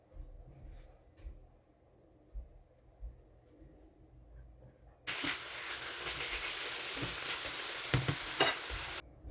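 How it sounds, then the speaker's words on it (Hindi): Chicken pieces hit a hot tawa coated with sizzling ginger garlic paste, with a quiet stretch of faint clatter first and then a sudden loud, steady frying hiss that carries on to the end. "चिकन को उसका कलर चेंज होने तक पकाएंगे"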